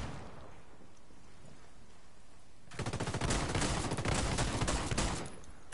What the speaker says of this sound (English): Taking fire! Flashbang's going in.